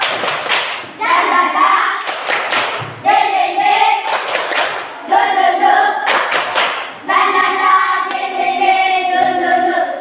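A group of people doing a rhythmic spirit clap in a classroom or training session, with loud bursts of clapping and thumping in patterned bursts, mixed with voices chanting or talking along.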